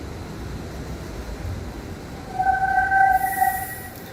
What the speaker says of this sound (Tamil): இது Pune metro, Pune railway station metro சைடுல இருந்து வருதுங்க